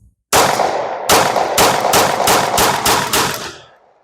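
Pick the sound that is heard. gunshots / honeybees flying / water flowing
gunshots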